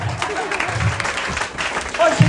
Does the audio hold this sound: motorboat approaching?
no